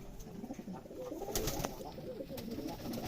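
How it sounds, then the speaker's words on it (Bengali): Pigeons coo at close range inside a pigeon house on a Rajshahi loft farm keeping Giribaz and racing pigeons, a soft continuous murmur of overlapping calls with a few brief sharper sounds and no talking. "এ দেখেন কবুতর গালা কত সুন্দর আমার"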